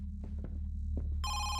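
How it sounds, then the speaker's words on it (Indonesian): A telephone bell starts ringing inside a dark house in a horror video game, a bright electronic ring that cuts in over a steady low hum and soft movement sounds. "Ada telepon cuy."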